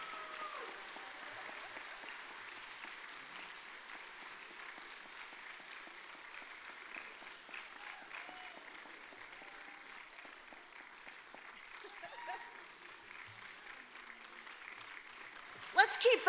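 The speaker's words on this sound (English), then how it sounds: "Let's keep those applause going." Audience applause rolls on steadily through a county GOP Lincoln Day gathering at Southfork Ranch, a fairly faint, even wash of clapping with a few louder bursts near the end.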